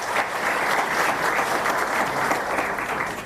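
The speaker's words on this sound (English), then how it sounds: "Clap for yourselves." A crowd at a ceremony applauding, dense and sustained clapping that holds at a steady loudness for the whole stretch with no voices above it.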